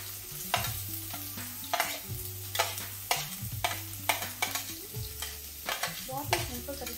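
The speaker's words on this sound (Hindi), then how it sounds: "हींग डालने के बाद ये जो हमारी चॉप्ड अनियन है इसको डालेंगे।" Chopped onions hit hot oil seasoned with cumin and asafoetida, crackling in a steady sizzle with repeated scraping stirs every second or so, a low tonal hum running underneath, no talking.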